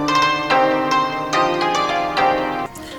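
A dark ethnic melody one-shot in FL Studio, processed with RC20 vinyl crackle, noise, wobble and distortion: plucked, ringing notes struck in a steady sequence, louder and grittier, with a hazy noisy layer beneath them.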